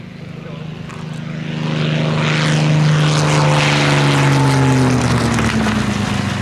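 A P-51 Mustang propeller fighter at the Duxford Battle of Britain Airshow 2023 swells into a loud, throaty engine drone as it passes close overhead, its pitch sliding downward as it moves away.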